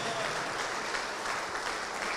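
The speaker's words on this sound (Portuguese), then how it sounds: "vamos aplaudir mais ao Senhor Jesus por cada vida que está chegando" A church congregation applauds during a sermon, a continuous, even wash of many hands clapping at low volume, with a voice faintly underneath.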